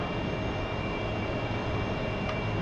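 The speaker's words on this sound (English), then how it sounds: "so we are going for takeoff" An AV-8B Harrier jet in a DCS flight game powers up for takeoff, giving a dense, loud, constant engine roar with a steady high whine running through it and no talk.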